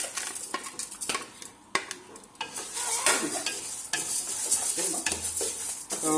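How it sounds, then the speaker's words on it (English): Lentils dry-roasted in a pan for chicken haleem, stirred briskly so the hard grains rattle and scrape against the metal in repeated sweeps, with occasional sharp utensil knocks, close and fairly loud. "Dry roast these lentils."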